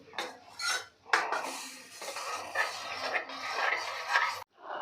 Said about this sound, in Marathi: दोन ते तीन मिनटे आपल्याला ह्या लसणाच्या फोडणीमध्ये परतून घ्यायचं आहे